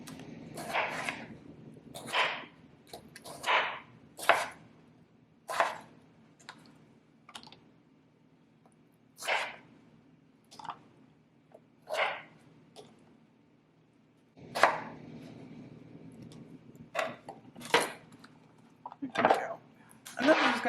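Knife slicing through Yukon Gold potatoes on a cutting board, irregular crisp chops and taps spread out over about twenty seconds with quiet gaps between them.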